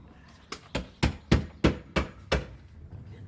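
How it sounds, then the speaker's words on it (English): Hammering during a landlord-tenant dispute: seven sharp, evenly spaced blows in quick succession, loud and close, with no voices. "Man, they hammering at that."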